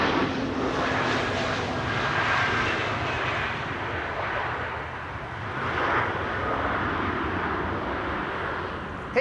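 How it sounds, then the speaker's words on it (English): An EasyJet Airbus A320neo lands on runway 27 at Amsterdam Schiphol after arriving from Palma de Mallorca. Its engines make a steady, loud, broad roar that swells slightly and then eases as it passes at moderate distance, with no talking. "EasyJet A320 Neo arriving from Palma de Mallorca, landing over here, runway 27"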